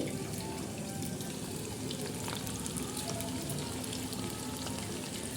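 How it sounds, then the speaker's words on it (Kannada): Chicken kebab pieces frying in oil over a medium flame give a dense, continuous sizzle with crackling pops, steady and close, with no voices over it. "ಮೀಡಿಯಮ್ ಫ್ಲೇಮಲ್ಲಿ ಇಟ್ಕೊಂಡು ನಾವು ಇದನ್ನು ಎಣ್ಣೆಯಲ್ಲಿ ಫ್ರೈ ಮಾಡಬೇಕಾಗುತ್ತೆ"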